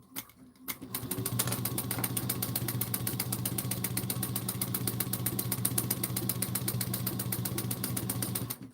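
Sewing machine stitching a bowler bag, running at a fast steady clip after a brief quiet start, its rapid rhythmic needle chatter close and continuous.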